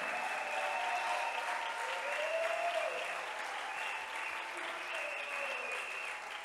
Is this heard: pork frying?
no